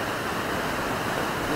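The fast-flowing Mandakini, a mountain river, gives a dense, loud, continuous roar of rushing water from close by, steady across the whole stretch with no voices over it.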